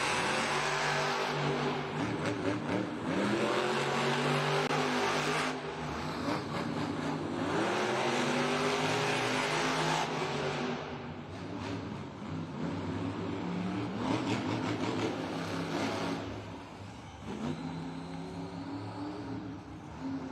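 Monster truck engines roar and rev during JCB Racing finals at a Monster Jam arena event in Des Moines, sustained loud throttle bursts with rising and falling pitch across the whole stretch, crowd ambience beneath.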